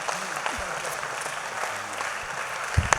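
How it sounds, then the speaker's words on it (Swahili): A church congregation claps together in sustained applause, a dense, even patter of many hands with voices murmuring underneath and a couple of sharper claps near the end. "Mchapie Bwana makofi kwa ajili ya ndugu."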